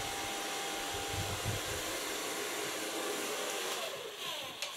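A hair dryer blowing on dry hair at a salon during a short cut and color, a steady loud whooshing roar that runs unbroken throughout.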